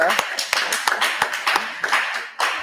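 A small forum audience gives scattered applause, a handful of distinct, close claps in an irregular rhythm, with speech running beneath.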